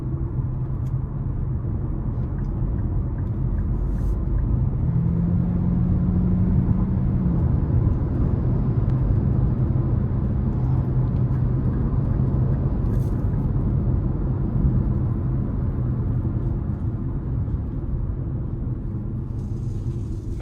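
A 2025 Nissan Kicks SR accelerating gently in eco mode, heard as a steady low engine and road rumble with a slight rise in pitch partway through, continuous and even in loudness with no talking.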